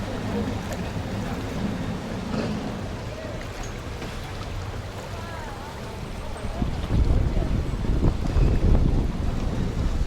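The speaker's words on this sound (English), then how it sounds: "Look at this big boat there, taking up all the river." A big Amsterdam Circle Line canal boat passes on the canal, its engine rumble swelling low and close toward the end under steady wind buffeting, with occasional voices nearby.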